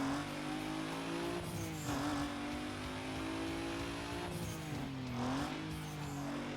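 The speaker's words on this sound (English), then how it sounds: "Oh, yeah, the car sounds okay." A Toyota Supra in Need for Speed: Most Wanted on the Xbox 360 hums at a steady engine note. The pitch rises and dips with gear changes and revs, without talk over it.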